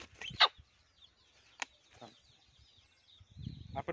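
Native village rooster clucking: a few faint, scattered clucks separated by quiet gaps, with no talking.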